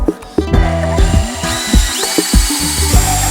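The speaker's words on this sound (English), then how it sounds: "we just went out and bought a proper drill finally." A newly bought power drill runs in a workshop, whirring in short loud bursts that rise and stop several times, with a clatter of tools in between.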